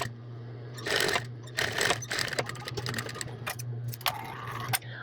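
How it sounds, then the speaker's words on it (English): A sewing machine stitching over the ruffle seam of a women's apron, quick rattling bursts of needle motion starting and stopping under a steady motor hum, close by and without talk. "We're stitching right over top of that seam for the ruffle as well."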